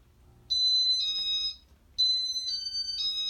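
Two bursts of high electronic beeps, each a quick series of three chirps, from a Casablanca Saturn ceiling fan in demo mode, sounding clearly and close over a low background hum.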